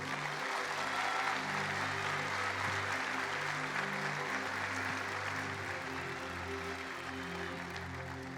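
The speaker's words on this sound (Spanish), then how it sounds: "Denle ese aplauso al Señor." Church congregation applauding during a Spanish-language service, steady sustained clapping from a large room with a low sustained musical backing underneath, lasting throughout.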